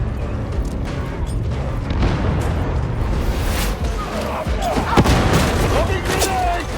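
Grenade blasts and heavy gunfire rumble in a dense, loud barrage in the video game Warhammer 40,000: Darktide, booming explosions mixed with continuous shooting and chaotic battle noise.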